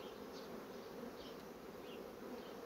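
Honey bees swarming in a tree, a continuous soft droning buzz with a few individual bees passing close, steady and faint with no voices.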